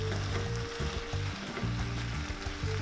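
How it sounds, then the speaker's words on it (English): About two pounds of ground beef sizzling steadily in a pan as it is broken up for a Puerto Rican piñon, a loud continuous fry with a low background hum and no talking. "And now we add the meat. Again, it's about 2 pounds of ground beef."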